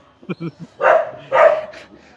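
A house dog gives two loud, close barks in quick succession, just after a few brief vocal sounds.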